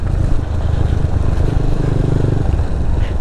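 Motorcycle riding up and down a rough, bumpy mountain road, its engine a steady loud drone throughout, close and continuous with no voices.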